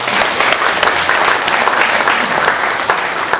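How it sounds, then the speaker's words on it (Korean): A church congregation claps for a handbell choir, a dense, loud, steady wash of applause that fills the room without pause. "우리 박수 한번 부탁드리겠습니다"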